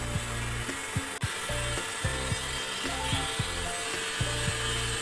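PVC pipe being scraped to shape a bird's beak, a close, repeated rasping scrape in short strokes with brief pauses and a sharp click partway through.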